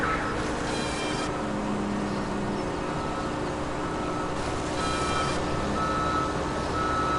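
Reversing beeps from a vehicle in the Farming Simulator video game, a steady repeating tone over a continuous engine drone, moderately loud and unbroken, with no talking.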